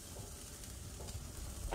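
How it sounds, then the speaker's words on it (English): Salmon fillet sizzles softly in an oiled pan over the stove, a faint steady frying crackle with occasional light scraping and stirring sounds. "Simply just put the fish in. You want to hear the sizzle sound again too."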